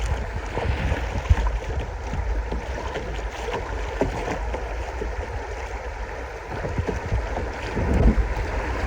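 A raft is paddled along a fast-flowing river, with steady rushing water and wind noise throughout and scattered splashes and knocks of paddles, close and fairly loud.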